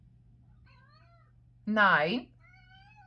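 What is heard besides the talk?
tomcat meowing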